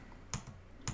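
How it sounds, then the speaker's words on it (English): Two quiet, crisp keystrokes on a computer keyboard, about half a second apart, tapped while entering a terminal command during a Debian setup. "So I'm typing sudo apt"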